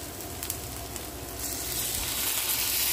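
Pork hock (pata) goes into a hot pot with sautéed onion and garlic, setting off a loud, close, continuous sizzle that swells and brightens as it settles in.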